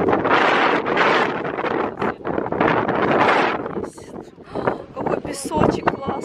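Strong wind gusts over a beach at White Beach resort in Hurghada, loud buffeting bursts that rise and fall, with voices talking between the gusts.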